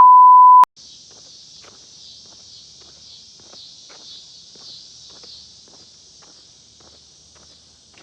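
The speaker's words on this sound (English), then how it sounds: "Can you guys hear the cicadas" Cicadas drone in a steady, high buzz that swells and fades slightly throughout an outdoor walk, with soft footsteps beneath and a short electronic beep at the very start.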